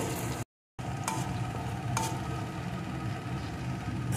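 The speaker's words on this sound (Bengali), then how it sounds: "এখন দিয়ে দেব একটা টমেটো কুচি। এটাকেও একটু এর সাথে নাড়িয়ে নেব।" Chopped tomato stirred into fried onions in a pan, a steady close sizzle with scraping strokes of the spoon running throughout.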